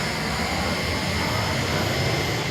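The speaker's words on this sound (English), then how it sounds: "Timmy boarded a plane bound for Denver" A passenger airplane's jet engine roars steadily as a loud, broadband rumble without a break, as heard from inside or near the plane, with no talking.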